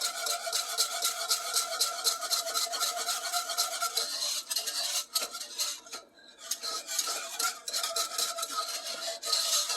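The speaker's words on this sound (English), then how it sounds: "we're going to whisk that all together" A metal whisk beats lumps out of a milky mac and cheese sauce in a pot, making steady rapid scraping and clinking strokes that are close and fairly loud, with a brief pause midway and no talking.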